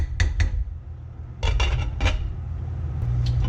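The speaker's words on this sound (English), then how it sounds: "So we're just going to stir this around a little bit, cover it back up, cook it for another hour." A spoon scrapes and clinks against a pot of beef daube in short bursts, with several bright metallic knocks and a final clatter as the lid goes back on, close and crisp over a low kitchen hum.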